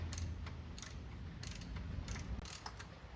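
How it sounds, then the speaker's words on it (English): A hand ratchet is turned in short bursts, giving rapid clicking pawl runs of about six strokes with brief pauses between them. The clicks are close and sharp against a low background hum. "Push in on the back of your ratchet."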